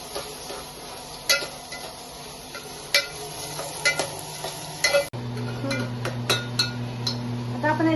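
Onion with curry leaves frying in a pan, an even sizzle punctuated by repeated sharp clinks of a spoon against the metal as it is stirred.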